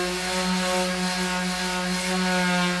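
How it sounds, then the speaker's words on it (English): Sandpaper working over rotted wooden planter box boards, likely with a powered sander given the steady whirring drone with tonal harmonics, loud and continuous without any talk. "But first, we sand."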